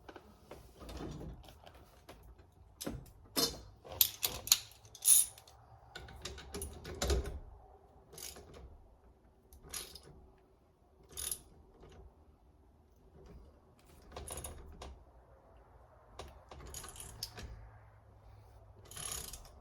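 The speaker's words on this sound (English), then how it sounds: "Once you can start tightening down that nut" A nut is tightened down on a car's turn signal switch, with sparse, irregular mechanical clicks, ticks and light scraping, close but fairly quiet, with short pauses between the turns.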